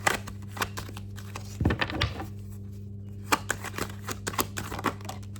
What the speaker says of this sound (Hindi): ओके, 2 और कार्ड्स मैं लेने वाली हूँ।